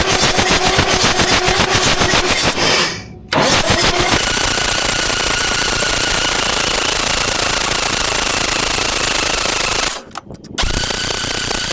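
A loud old Caterpillar diesel engine cranks over and over with a rapid, rough chugging rhythm, pausing twice briefly before resuming, close and continuous.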